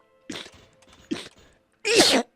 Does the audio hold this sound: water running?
no